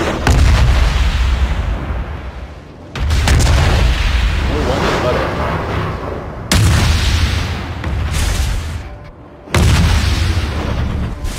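Four heavy warship gun blasts in the video game World of Warships boom out at steady intervals, each followed by a rumbling roar that fades before the next shot.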